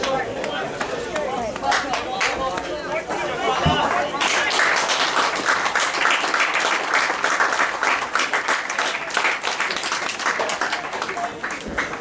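Spectators clapping at a schools rugby match between Waitaki Boys and South Otago, a steady patter of many hands from the crowd that swells after a few seconds, with voices chattering underneath.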